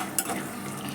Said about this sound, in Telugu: పల్లీలు వేయించుకున్నాను